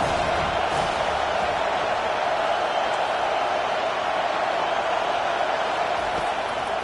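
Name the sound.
football stadium crowd cheering on third down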